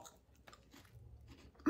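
Someone bites into a crunchy, airy Japanese chocolate snack and chews quietly close up, with soft crunches in short bursts and no talk.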